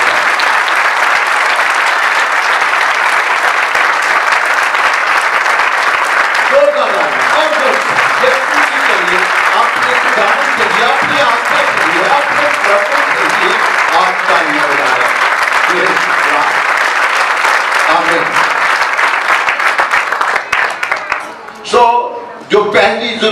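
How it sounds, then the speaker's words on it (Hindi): A church congregation at a Sunday service applauds loudly and continuously, the dense clapping carrying on at full strength before thinning into scattered claps and a few voices near the end. "जोरदार तालियां यीशु मसीह के लिए"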